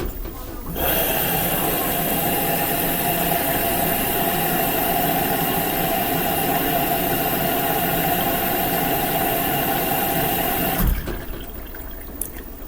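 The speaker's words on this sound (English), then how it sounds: "Filling. We are filling now for the first rinse." An LG WM3600HWA washing machine fills with water for its first rinse on a delicates cycle: a steady, fairly loud rush of water with a constant mechanical hum that runs for about ten seconds, then cuts off abruptly.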